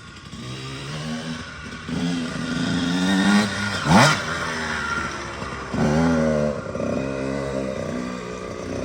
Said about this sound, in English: I know how to start a bike. KTM fires right up.